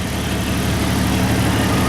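A Jeep 4.0 engine with 186K miles idles smoothly, a steady, even low rumble that runs unbroken and close for the whole stretch with no talking.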